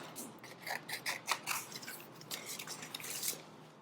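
Scissors snip steadily around a decoupage transfer sheet, a rapid run of close, crisp cuts and paper rustles with no speech.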